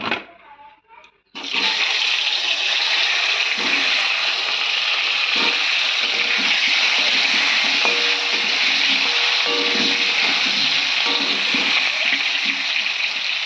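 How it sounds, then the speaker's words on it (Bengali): Loud, steady hiss of potatoes frying in hot oil over a very low gas flame begins abruptly after a short pause and continues evenly, with occasional faint clinks from stirring. "এখন আমি আলুটাকে ভেজে নেব ভালো করে"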